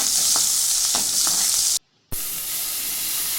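Onions sautéing in hot oil with mustard seeds for a South Indian gotharangai gravy, a steady close sizzle with a few soft crackles, briefly cut off by a moment of silence before the frying resumes.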